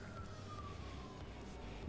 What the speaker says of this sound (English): A lot of sirens lately.